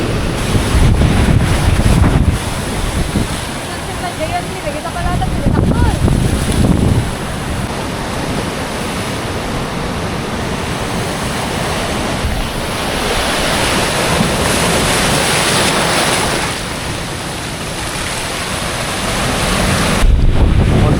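Loud ocean surf rolls in and breaks repeatedly during a typhoon at Camiguin de Babuyanes Island, Philippines, while strong wind buffets the microphone, with no voices.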